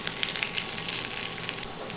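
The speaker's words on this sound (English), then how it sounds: "Now we will shallow fry the paneer." Paneer shallow frying in hot oil, a close, steady sizzling hiss with small crackles and pops throughout.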